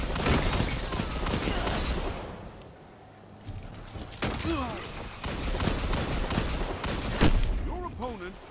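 Shotgun gunfire in Destiny 2 competitive play, sharp blasts and bursts of game combat sounds in clusters, with a brief lull in the middle, mixed with game effects and voice chatter.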